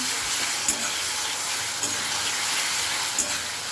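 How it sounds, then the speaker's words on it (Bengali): Ginger, garlic and green chili paste fries in a pan for chicken gizzard and liver masala, a steady loud sizzle broken by three brief knocks of stirring. "আদা রসুন আর কাঁচা লঙ্কা বাটাটা দিয়ে দেবো, দিয়ে ভালো করে নাড়বো।"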